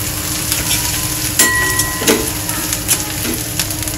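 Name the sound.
jackfruit bhaji frying in oil with tilkut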